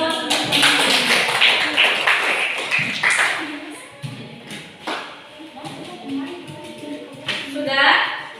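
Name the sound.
audience applause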